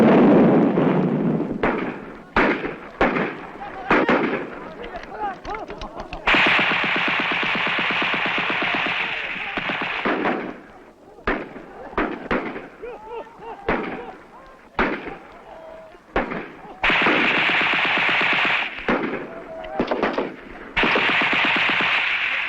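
Bursts of rifle fire from a people's militia training in 1971, sharp repeated cracks in irregular volleys and short strings, loud and close, with stretches of steadier rapid firing.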